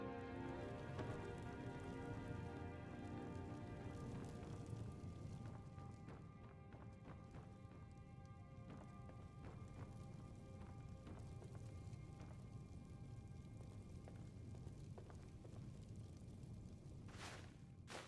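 Horse hooves clip-clopping in the Skyrim video game, a fairly quiet, uneven run of hoofbeats over a constant rain-like background hiss, with no talking.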